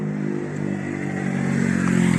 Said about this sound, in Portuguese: Esse cara vem no pau nessa avenida aqui de moto.